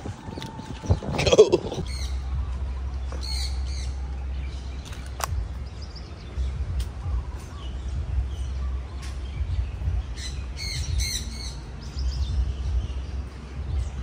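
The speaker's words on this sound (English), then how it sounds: "It's like bird ASMR, jungle ASMR." Birds chirp and squawk at a zoo in Hawaii, scattered bright calls coming in clusters over a constant low rumble, with a loud thump near the start.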